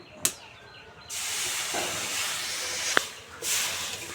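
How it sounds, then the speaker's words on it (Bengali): Water is poured into a hot pan of fried grated carrot and semolina, setting off a loud, close, sustained hiss of steam that rises sharply and runs for about two seconds, with a few knocks and clinks of cookware around it. "এবারে আমি দিয়ে দেবো পরিমাণ মতো জল"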